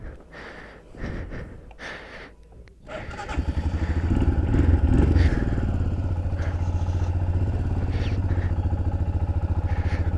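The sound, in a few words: motorcycle riding on snow with snow chains fitted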